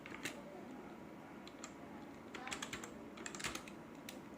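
Keys clatter on a computer keyboard as an employee report title is entered, with a fairly steady run of light clicks that grows busier in the second half, heard close up.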